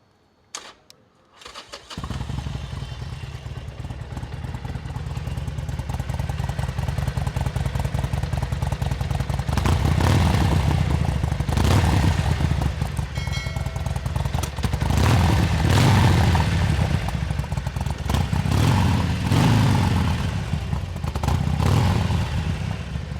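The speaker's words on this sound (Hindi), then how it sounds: "एक कस्टम एग्जॉस्ट इस सेम 1200 सीसी इंजन में, जैसे इसके अंदर कस्टम ब्रांड में लगा हुआ है, उसकी आवाज़ कैसी आएगी" A Harley-Davidson 1200cc engine fitted with a custom exhaust starts up after a short silence, then idles with a loud, deep, steady rumble and is blipped through several throttle revs that swell and fall back.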